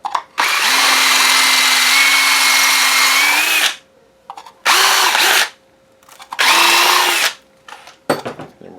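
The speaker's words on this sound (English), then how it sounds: "This one doesn't have to be as big, we're just going 1/2 inch with it." Power drill boring a 1/2 inch hole to fit a pipe nipple for an aquaponics tower, heard as loud close whining bursts: one long run, then two shorter ones and a brief final blip, with pauses between.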